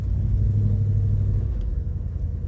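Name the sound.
318-3 car being driven on the street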